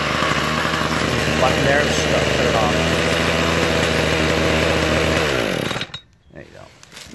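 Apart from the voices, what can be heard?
Toro 51976 25cc gas string trimmer engine running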